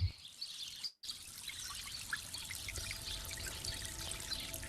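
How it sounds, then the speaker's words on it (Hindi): A forest waterfall gives a soft, steady rush of flowing water, faint and continuous after a brief break at the start, with occasional bird chirps above it. "झरने की मधुर ध्वनि"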